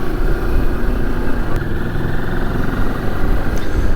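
A 2022 Moto Morini X-CAPE 649 adventure motorcycle on slightly knobbly tyres is ridden with a loud, steady engine drone and wind rumble close up, and there is no speech.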